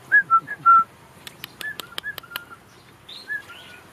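A glossy starling (choucador) in an aviary whistles in short, bright clear notes with bursts of sharp clicks between them, fairly close and alone against a quiet background.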